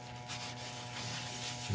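Food-safe wax finish rubbed by cloth onto turned brownheart wood, a soft steady rubbing hiss that continues close and alone, with a brief louder scrape at the end.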